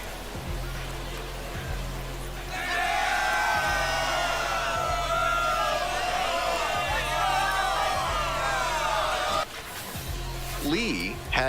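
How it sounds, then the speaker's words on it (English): Home crowd cheering in a baseball video game after a walk-off home run: a dense, loud roar of whoops and yells swells suddenly and holds for several seconds before cutting off, with a commentator talking over it. "Well, that'll fire up the home crowd."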